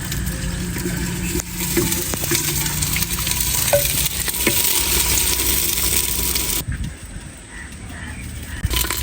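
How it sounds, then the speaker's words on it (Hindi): Chopped onions frying in hot ghee in a pan for a pumpkin and chana dal rice dish, a steady close sizzle and crackle with occasional stirring scrapes and faint clinks. "प्याज को थोड़ा सा हल्का सा भून लेंगे ताकि थोड़ा सा सुनहरा हो जाए।"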